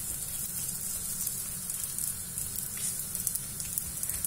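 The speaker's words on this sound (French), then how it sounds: "Je vais finir de faire cuire tous mes msemen" Msemen flatbread frying in a pan gives off a steady, fairly quiet sizzle that runs unbroken throughout, with no voices.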